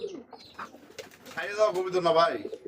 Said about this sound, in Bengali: কবুতরটা কিন্তু একদমই কিন্তু ছটপটে ডাকার চেষ্টা করতেছে